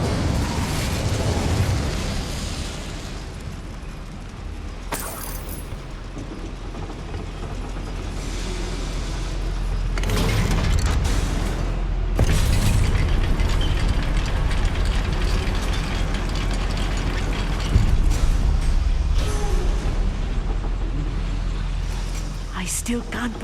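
A fire spell, Incendio, cast in the Hogwarts Legacy video game, bursting in two sharp blasts amid a steady bed of game music and ambience, with crackling and mechanical clatter between them.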